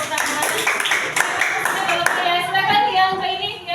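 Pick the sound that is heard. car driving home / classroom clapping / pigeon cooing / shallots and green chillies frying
classroom clapping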